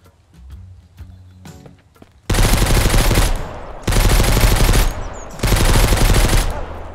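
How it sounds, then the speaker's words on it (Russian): Three long bursts of automatic gunfire in the survival video game Mist Survival rattle out loud and close, each lasting about a second, after softer rustling and thuds. "Кто там стреляет?"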